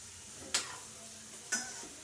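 Half-fried urad dal vadas sit in oil for a second round, under a soft steady hiss broken by two sharp clinks of a utensil against the pan.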